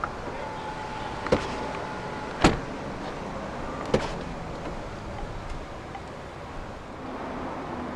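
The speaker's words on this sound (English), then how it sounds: "As you open any one of the 4 doors in this car, the windows dip down a little bit to clear the door frame." Power windows on a 2018 BMW 630i Gran Turismo M Sport dip briefly as a door opens, with a few sharp clicks and short motor whirs over a quiet background.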